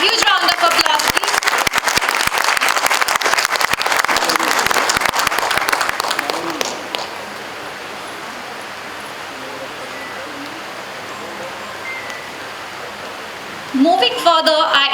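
Audience at a college celebration giving a big round of applause, dense loud clapping for about six seconds that stops abruptly, leaving quiet room tone, then a brief burst of voices near the end.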